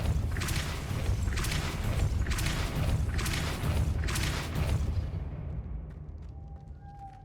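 The Depulso spell cast in Hogwarts Legacy, five loud repeated whooshing bursts over a rumbling low drone, evenly spaced and close, fading out toward the end.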